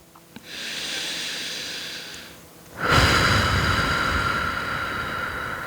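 Slow breaths during a yoga session, a steady airy exhale followed by a louder, fuller breath that swells and holds, close and alone with no talking.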